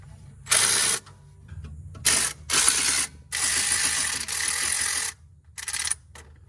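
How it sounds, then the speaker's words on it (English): A ratchet loosening a hose clamp on a Kioti DK5310 tractor, with several close bursts of rapid clicking separated by short pauses. "I'm gonna go right here, take this clamp loose."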